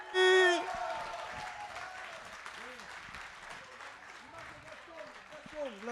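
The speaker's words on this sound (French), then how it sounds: "on continue à applaudir, hein, faites du bruit" An audience at an antiques trophy ceremony in L'Isle-sur-la-Sorgue, France, applauds with soft, sustained, moderately distant clapping, and a voice is heard briefly at the start and again near the end.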